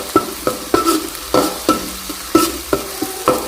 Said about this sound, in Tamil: அரைச்ச அந்த வெங்காயம் தக்காளிலாம் இப்போ சேர்த்து நல்லா வதக்க போகிறேன்